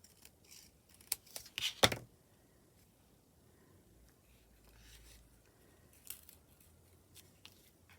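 Scissors snip through paper in a quick cluster of crisp cuts near the start, followed by a lone later snip in an otherwise quiet room while making a junk journal pocket.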